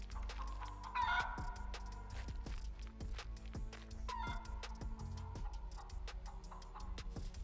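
A chicken clucks repeatedly in a survival video game, short clucks and a couple of louder squawks scattered over a low ambient game background.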